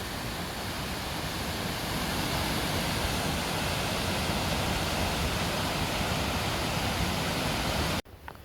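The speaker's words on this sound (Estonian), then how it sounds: "Selline platvormikene ja siit ta siis tuleb, voolab alla." Steady, loud roar of the Rheinbach waterfall pouring down at Cascate di Riva in northern Italy, a dense broadband rush heard up close without pause before cutting off abruptly near the end.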